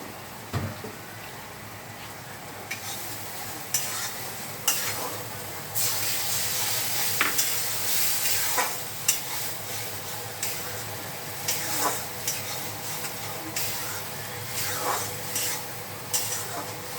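Spiced food with turmeric and salt is fried and stirred in a pan. A low, steady sizzle sits under repeated scraping and knocking strokes of the spoon against the pan, with no talking.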